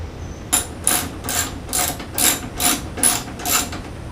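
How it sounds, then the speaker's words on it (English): A ratchet wrench clicks through repeated short bursts, about seven strokes in steady rhythm, while backing out tight, seized bolts on a Suzuki Boulevard C50 motorcycle; the sound is close and loud with no talking. "The bolts are almost too hot to touch just from the friction of taking them out."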